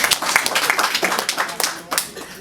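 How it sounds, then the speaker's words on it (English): Scattered clapping from a small audience at a business presentation, a rhythmic patter of individual claps that thins out briefly near the end before a final few claps, with some voices mixed in. "Please give yourself a round of applause."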